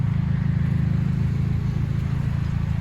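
Toyota Celica GTS with a 2ZZ engine running during a coolant bleed, a steady close, loud engine drone held at raised revs without strong changes; no talk.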